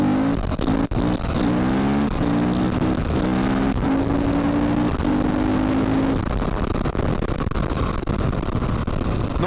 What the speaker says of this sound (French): je commence mes wheelings en deuxième la plupart du temps et de temps en temps en troisième